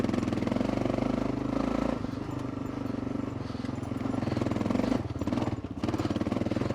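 A Gen 3 Kawasaki KLR 650 single-cylinder motorcycle rides rough off-road trails, its engine throbbing steadily up close with brief dips in throttle and rattling clatter from the bike.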